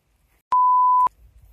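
A single steady electronic beep, clear and loud, lasting about half a second, followed by faint low rumbling.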